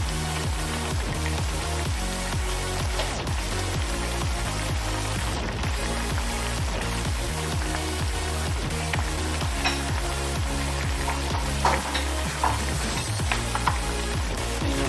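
Salmon pieces sizzle and crackle in a hot pan while being stirred for pork and salmon laing, with steady frying hiss and scraping stir strokes throughout.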